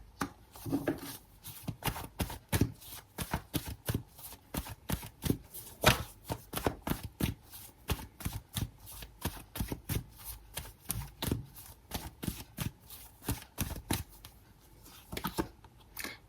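Tarot cards are shuffled and flicked out one after another, a close series of quick, dry slaps and riffles in an irregular but busy rhythm, fairly quiet throughout.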